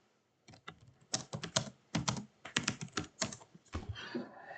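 Fingers type on a computer keyboard, producing close, crisp bursts of rapid key clicks in quick clusters separated by short pauses.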